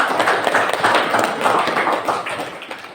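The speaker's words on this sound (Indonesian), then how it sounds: "Jadi kita tepuk tangan dulu" A classroom group claps together in steady rhythmic bursts, close and fairly loud, for a few seconds without talk.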